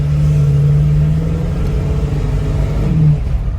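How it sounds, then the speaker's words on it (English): A Ford Gran Torino with Holley Sniper EFI held at full throttle while driving, its loud, close engine droning steadily with a slightly wavering, labored pitch as it stumbles and falls flat instead of pulling. "See, if I go all the way full throttle, then it falls on its face"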